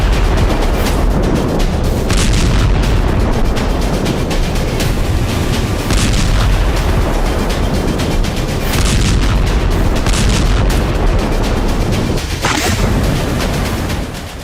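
Explosions from bombs dropped on buildings boom and crackle repeatedly over a loud, continuous roar of rumbling blasts.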